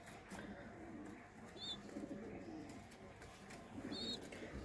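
Domestic desi pigeons, including a red squab, coo in low repeated murmurs; the sound is faint and steady, and a soft higher chirp breaks in twice.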